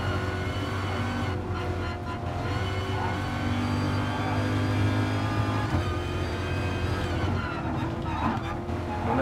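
Car engine from Gran Turismo Sport racing game, a steady droning hum that holds loud and continuous throughout with slight pitch shifts, someone talking over it at times.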